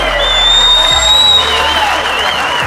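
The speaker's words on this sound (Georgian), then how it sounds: "მეტი ხმაური, მეტი აპლოდისმენტი." A large crowd at a GAMA Berserker fight event applauds and cheers, with whoops and whistles, forming a loud, dense roar that fills the space throughout.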